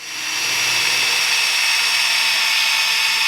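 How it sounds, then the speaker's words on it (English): A power drill bores a bolt hole for a Mercury's suspension, spinning up quickly into a loud, steady, high-pitched whine that holds without pause, close and alone. "Let's drill it first."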